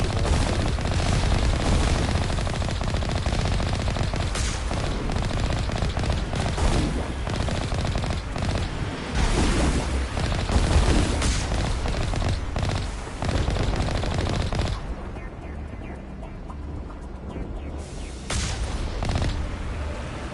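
Sustained rapid gunfire in Mass Effect Legendary Edition 1 rattles loudly and almost without a break, dipping briefly toward the end before bursts resume.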